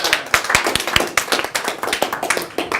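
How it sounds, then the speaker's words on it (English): An audience at a tax seminar claps for the presenter, a close, lively burst of many hands with crisp individual claps standing out, steady throughout and with no talking. "like everyone to give a huge round of applause to Simon."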